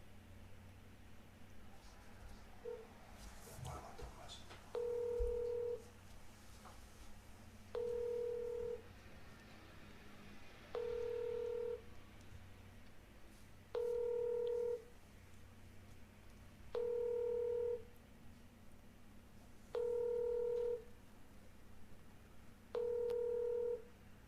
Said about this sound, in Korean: 혹시 받으실 수 있으실까요? 전화 연결 한번 해보겠습니다.